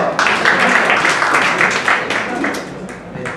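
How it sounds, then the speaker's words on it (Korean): Audience applause at a startup weekend final pitch event, dense broadband clapping from a crowd sustained across the whole stretch at steady loudness, with no speech over it. "박수로 부탁드릴게요"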